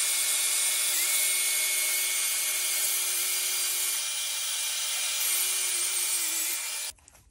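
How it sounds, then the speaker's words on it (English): A saw cuts steadily through a wooden industrial sewing machine table in one continuous, loud rasping stroke before it stops abruptly. "Okay, so now we're getting our saw."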